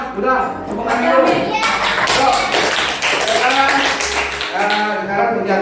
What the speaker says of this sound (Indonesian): Udah, tepuk tangan dulu.